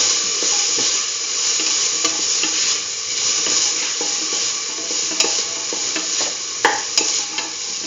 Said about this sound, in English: Now put in the chayote pieces.